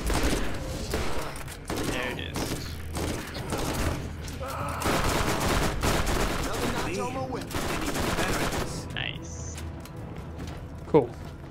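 Gunfire in co-op Borderlands, rapid bursts and scattered shots rattling through a busy firefight, with voices talking over the shooting.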